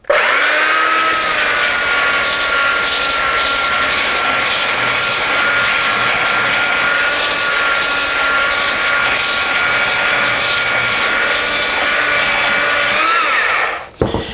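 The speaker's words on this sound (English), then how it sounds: "my little Porter Cable 3x14 sander, and I think this is a 175 grit" Porter Cable 3x14 belt sander with 175 grit paper sanding wood, a loud continuous whining drone running steadily for about fourteen seconds close by, then cutting off.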